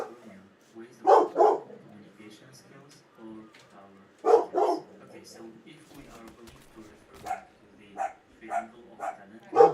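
Several dogs bark in the background of a livestream, intermittent bursts and yips scattered through the stretch while a person keeps talking over them.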